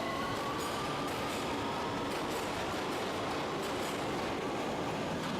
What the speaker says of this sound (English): The doors close, and away it goes off to the next station. The train moves away quickly.